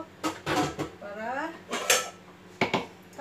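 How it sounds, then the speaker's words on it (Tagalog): A metal cooking pot is picked up and handled in a kitchen while preparing glutinous rice, giving several sharp clanks and scrapes in irregular bursts, close and fairly loud. "Kuha tayo ng kaldero"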